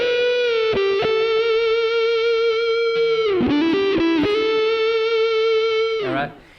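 Licks on a Les Paul electric guitar, tones rolled down with a touch of wah: sustained, singing distorted lead notes with bends and quick runs, loud and continuous, ending in a fading release.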